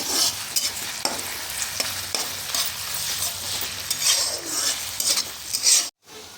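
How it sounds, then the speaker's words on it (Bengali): Onion fries in mustard oil in a wok, a close, steady sizzle broken by repeated scrapes and clinks of a spatula stirring against the pan, ending in a sudden brief silence. "আমি এর মধ্যে পেঁয়াজটা দিয়ে দিচ্ছি। পেঁয়াজটা হালকা করে একটু ভেজে নেব।"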